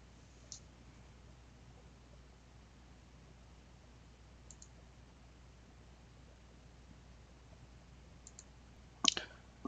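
Computer mouse clicks come as a few sparse, faint single and double clicks spread over a quiet hiss, ending in a slightly louder cluster of clicks.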